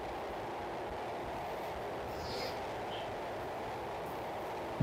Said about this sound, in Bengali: মোটামুটি সেতুটি পার হতে ট্রেনের ৭-৮ মিনিট লেগেছে।